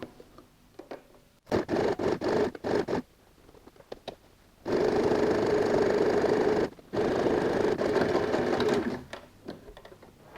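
A sewing machine running a medium-length zigzag stitch through handbag fabric, in short start-stop bursts at first, then two long steady runs of whirring, rhythmic needle clatter, close and fairly loud.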